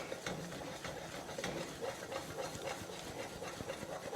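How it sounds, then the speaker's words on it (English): Flour being stirred into fat in a pan for a roux, giving a steady soft scraping and gentle sizzling hiss that stays fairly quiet and continuous throughout, with no talking. "So you want to put this in and probably stir it and cook it for about 3 minutes or so."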